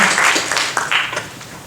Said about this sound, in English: I think they deserve another round of applause for the amazing stories they shared.